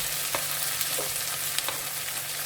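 Garlic, ginger and chilli fry in a pan with a steady close sizzle and occasional soft crackles, no voices.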